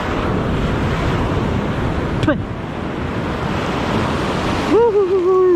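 Strong ocean waves crash and wash in a loud, continuous roar at the shore during ultralight fishing, with wind buffeting the microphone and a brief high squeal near the end.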